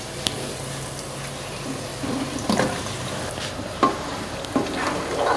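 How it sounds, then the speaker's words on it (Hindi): Chicken pieces go into a spiced masala frying on high heat, giving a steady close sizzle with scattered stirring clatters and scrapes and no talking. "तो अब हम इसमें डाल देंगे चिकन।"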